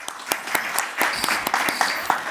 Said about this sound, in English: Another hands of applause, please